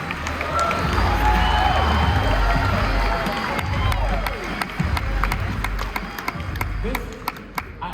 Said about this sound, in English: I don't think the claps are enough because this is crazy.